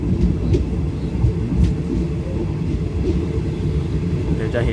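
Passenger train No. 204 runs on the new double-track line through Prachuap Khiri Khan toward Thonburi, heard from the rear car as a steady, loud low rumble of wheels and carriage that continues without a break.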